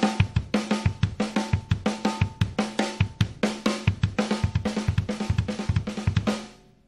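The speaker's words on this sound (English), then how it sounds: "a two and two pattern would sound like this" Drummer plays a two and two pattern on snare and kick, fast steady strokes with regular accents repeating for several seconds before ringing out, loud and close with no talk.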